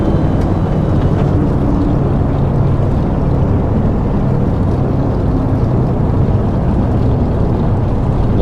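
A DC-3's left radial engine starting up in the X-Plane 11 simulator, a loud steady low rumbling drone that holds constant throughout with no talk over it.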